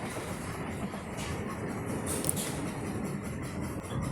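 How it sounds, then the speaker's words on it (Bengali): A Sealdah to Namkhana passenger train runs along with a continuous low rumble from inside the carriage, steady and fairly quiet, with no talk. "5টা 20 শিয়ালদা থেকে নামখানা ট্রেন। উঠে পড়েছি ট্রেনে"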